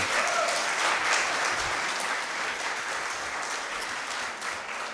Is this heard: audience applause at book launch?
yes